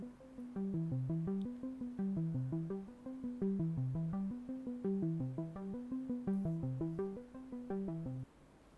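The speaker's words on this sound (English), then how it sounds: "So this one I pick a synth lead percussive pulse" A layered synth lead in Logic Pro repeats a percussive pulsing arpeggio pattern for a Stranger Things–style theme, steady and rhythmic, holding near full level before dropping slightly at the end.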